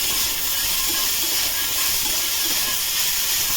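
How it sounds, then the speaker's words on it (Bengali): Vegetables fry in a little oil in a hot wok, giving a loud, continuous sizzling hiss that holds steady from start to finish, with no talk. "সামান্য একটু তেল দিয়ে এই যে সবজিগুলো এবার ভেজে নেব ভালো করে।"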